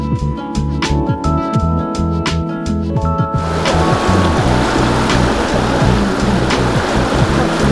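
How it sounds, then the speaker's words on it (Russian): The Roshchinka river, a fast, turbulent stream in the winter Lindulovskaya grove, rushes loudly and continuously, a broad churning roar that thickens after the first few seconds, with rhythmic sharp ticks heard early on. "В роще есть река Рощинка, у нее достаточно бурное и стремительное течение."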